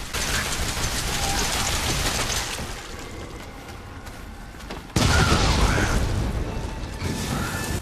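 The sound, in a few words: remote bomb explosion in Resident Evil 7 video game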